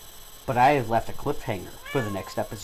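A pet cat meows loudly and repeatedly close to the microphone during a Sims game recording, its drawn-out, rising cries overlapping with a person talking.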